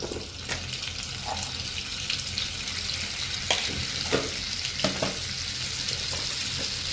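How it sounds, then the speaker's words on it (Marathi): Butter and cumin seeds fry in hot oil for veg Kolhapuri sabji, a steady close sizzle scattered with sharp crackles and pops, with no voices. "आपलं तेलसुद्धा गरम झालं बटर घालून घेऊया त्यानंतर थोडं जिरं घालून घ्यायचं"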